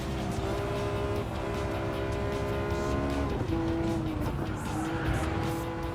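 A Porsche 911 GT3 drifting in a VR racing game, its engine droning loud and steady while the tires screech in long, wavering squeals that rise and bend throughout.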